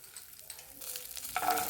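Chickpeas drop into a pan of oil with cumin, mustard seeds, bay leaf, curry leaves and turmeric for a mixed Bhogi vegetable dish, giving faint stirring then a rising sizzle near the end.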